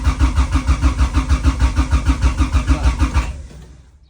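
A car engine, with a V20V mentioned, cranking in a fast, even rhythm at close range for about three seconds, then catching and firing before fading away.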